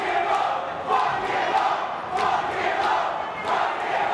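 A wrestling crowd cheers and chants in a rhythmic, repeated cadence, a loud, steady mass of voices filling the arena throughout.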